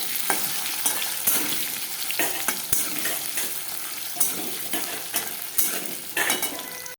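Potatoes sizzle and crackle loudly in a hot pan up close, with repeated scraping stirs and light clinks of a utensil against the metal.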